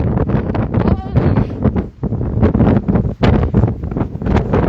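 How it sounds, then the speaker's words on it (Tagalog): Loud, blustery wind buffeting the microphone in heavy rumbling gusts, continuous and close, with no clear speech. "Lakas ng hangin."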